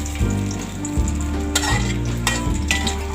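Pork belly fries in oil until golden with a steady sizzling crackle, a low hum underneath and a few occasional light clinks nearby.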